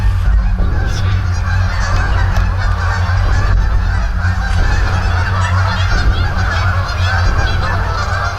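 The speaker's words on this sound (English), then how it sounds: "We heard all these geese freaking out" A flock of geese honking loudly and continuously in New Jersey woods at night, many overlapping calls close by over a constant low rumble.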